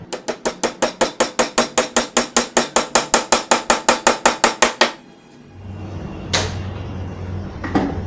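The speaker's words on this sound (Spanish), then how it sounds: "y con la ayuda de un martillito vamos insertándolo." A small hammer drives a glued wooden dowel into melamine board: about twenty quick, evenly spaced sharp taps in a steady rhythm, close and loud, then a pause, a rustle and one or two louder knocks near the end.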